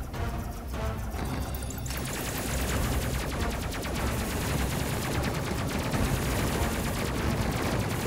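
Ship guns fire in the Space Crew video game: a dense, continuous barrage of rapid gunfire and explosions that stays loud and steady throughout, with no pauses.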